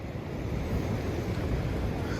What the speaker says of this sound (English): the wind's picking up, if you can't tell